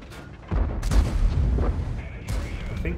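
Deep cannon blasts and heavy gunfire booms in World of Tanks, a loud sharp shot with a rumbling tail followed by further bursts, with a player talking faintly at moments.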